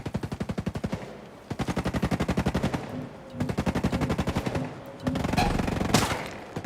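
Rapid automatic gunfire in Ghost Recon Breakpoint, several long bursts of evenly spaced shots with short pauses between them, loud and close, ending in heavier overlapping fire.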